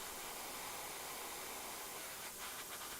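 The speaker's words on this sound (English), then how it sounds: "just a little bit of air to help dry off that paint" A miniature-painting airbrush blows plain air, with no paint, to dry a fresh highlight on model armor: a steady, close, even hiss of air that runs unbroken for about three seconds.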